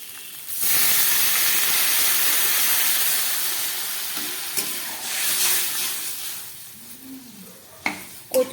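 Water poured onto hot, oil-glistening spice paste for a taro and hilsa-head curry sets off a loud, close burst of hissing steam that slowly fades into softer bubbling, with a few stirring scrapes and knocks near the end.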